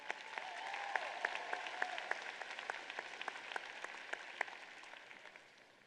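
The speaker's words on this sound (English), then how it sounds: "let's give a big round of applause for our sponsors of this session" A large convention crowd at the Georgia FFA Convention claps together, crisp individual claps standing out from a continuous spread of applause that stays moderate and slightly distant, fading toward the end.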